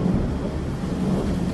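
Thunder rolls in a continuous low rumble over steady, heavy tropical rain at a high-rise steel construction site in Kuala Lumpur, loud and close throughout with no voices.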